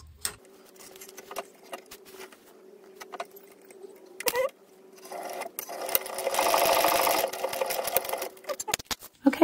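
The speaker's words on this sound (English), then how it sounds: "we're simply going to draw a line down the center of it and top stitch the credit card pocket in place" Sewing machine top stitching a credit card pocket on a laptop bag, starting with light ticking and handling noise, then running steadily for a couple of seconds, close and moderately loud, ending in clicks.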